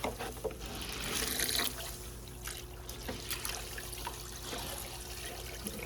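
Water runs and trickles at a pottery studio sink as a sponge is rinsed under the tap, a continuous close splashing wash with small squeezing variations.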